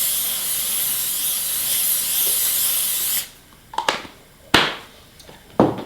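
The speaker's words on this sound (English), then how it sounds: "I'm going to use a spray oil today." Spray oil from a can hisses steadily onto a hot grill for about three seconds and then stops, followed by a few short clicks and knocks of handling.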